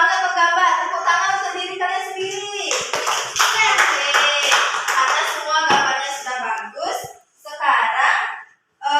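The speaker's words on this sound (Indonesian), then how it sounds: "Tepuk tangan untuk kelompok 2" A group of elementary school pupils claps in a classroom in bursts of scattered applause, with children's voices and laughter mixed in and some chatter between rounds.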